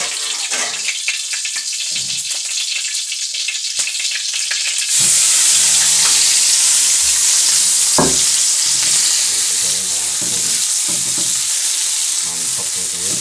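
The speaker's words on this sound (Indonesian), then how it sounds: "Ditumis lagi dikit lagi biar digoreng lagi biar enak." Honje (torch ginger) sambal sizzles and fries steadily in a pan, with loud continuous crackling and occasional stirring, growing louder about halfway through, with no talk over it.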